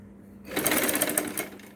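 A sewing machine stitches loops on a saree blouse, starting after a quiet moment and whirring in a fast, close, steady burst.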